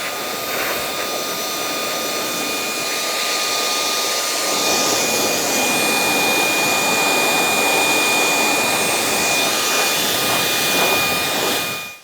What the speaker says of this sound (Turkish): Bu üflemeyi kullanabilirsiniz. Cihazımızı hem bir çalıştıralım hem de şöyle üfleme gücüyle